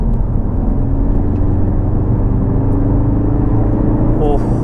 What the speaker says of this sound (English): let's go into fifth gear at 50 mile an hour and see what the pickup's like